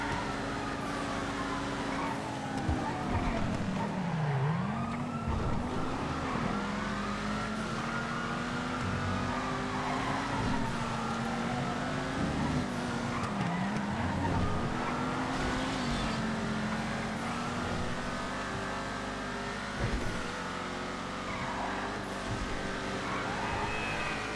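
A sports car races in GTA FiveM, its engine rising and falling through repeated gear shifts and throttle lifts over a long run, loud and close, with no talk.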